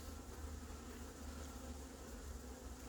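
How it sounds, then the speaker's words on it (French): Honeybees swarm in a dense, steady buzz around an active hive at an island apiary, a continuous close drone with no pauses and no voices. "Il y a beaucoup d'abeilles qui volent."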